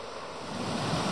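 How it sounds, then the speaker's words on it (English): Steady broadband wash of surf rolling onto the shore at St Andrews, Scotland, with some wind noise, no voices. "I can hear birds and the waves on the shore."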